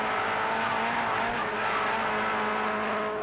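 A 1990 British Production Saloon Car Championship race, with a Suzuki and a Volkswagen Golf GTI battling, gives a steady, loud engine roar with tire noise from several saloon cars racing close together.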